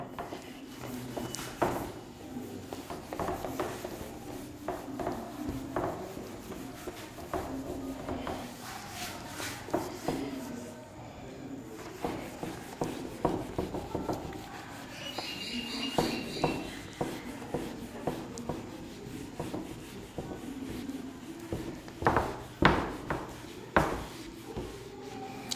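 An eraser rubs writing off a classroom board during a physics lesson on electric dipoles, making repeated scraping and rubbing strokes with scattered knocks. The sound is moderately close, with no talking.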